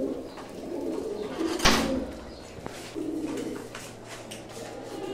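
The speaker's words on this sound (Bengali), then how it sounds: "এই যে এইখানে কবুতর আছে দেখেন" Pigeons coo in a loft, with a nesting bird sitting on eggs, their low rolling calls running through the whole stretch beside a brief louder knock or flutter midway.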